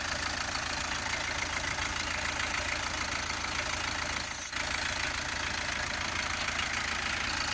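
An Audi TT 2.0 TDI diesel engine with particulate filter soot accumulation idles steadily with a low, even rumble and faint knocking, continuous throughout with a brief dip near the middle.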